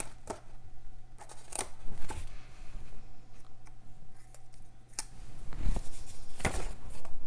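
Scissors snipping paper while a monthly planner spread is made, several quick close crisp cuts at irregular intervals over quiet background hum.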